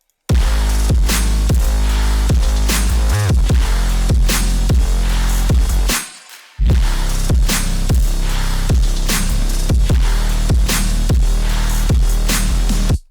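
A heavy trap metal beat of booming, sliding 808 bass pounds under hard, dense drums in a loud, steady driving pattern, with a short drop-out near the middle before it slams back in.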